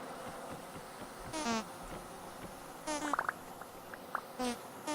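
Bees buzz around a meadow in the Vintage Story video game, several short buzzing passes rising and fading over a quiet background.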